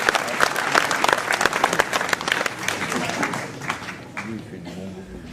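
An audience at a mayor's New Year ceremony in Ouistreham claps for a staff member before medals are awarded, a dense burst of applause that thins out toward the end while a voice speaks over it.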